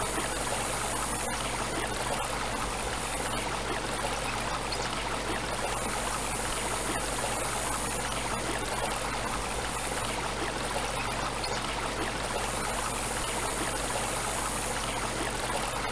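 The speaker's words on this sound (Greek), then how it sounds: "τρεχούμενα ύδατα." Running stream water in the Windows XP adventure game Olympia The Adventure flows in an unbroken, even rush, a steady close wash of burbling water with a low hum beneath it and no voices.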